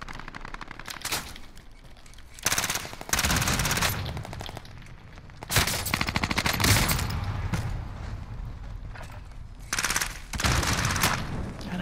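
Automatic gunfire from the video game Call of Duty: Modern Warfare: several loud bursts of rapid shots separated by brief quieter gaps, with no voices.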